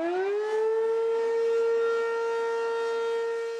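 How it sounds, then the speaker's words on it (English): A Hennepin County civil defense tornado warning siren, part of a new high-tech warning system, sounds as one steady, loud rising-then-held wail with strong harmonics, alone for several seconds with no voices. "Tornado sirens mean severe weather is brewing in the skies."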